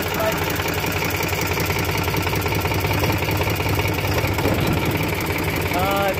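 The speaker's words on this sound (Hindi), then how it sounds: "देखो हमारे ट्रैक्टर चला रहे हैं" A tractor engine runs steadily at idle, a continuous rumbling chug with a slight knock, close and fairly loud, with no pauses over the few seconds.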